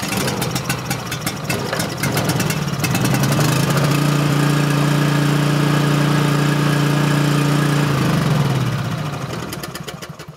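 Coleman Powermate 5kW generator with a Subaru/Robin engine roars to life after rope-pull clatter, running loud and steady with a low engine hum for several seconds before winding down and stopping.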